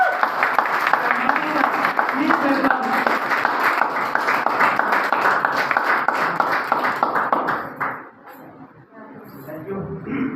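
A crowd at a gathering claps loudly and warmly for an arriving leader, with voices mixed into the dense applause before it fades sharply near the end.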